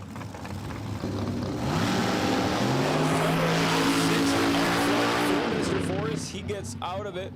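A top dragster powers down the strip at Empire Dragway with a loud, sustained roaring engine whose pitch climbs and shifts before cutting off, while an announcer talks over it.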